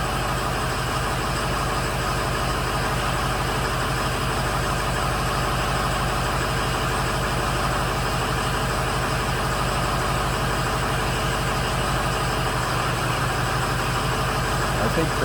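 A 2007 Ford F250 with the 6.0 diesel idles steadily and loudly throughout, a constant low rumble with a dense ticking clatter, while a voice speaks over it.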